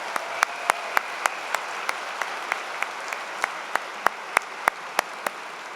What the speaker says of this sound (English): Let's give them a big round of applause for their performance this afternoon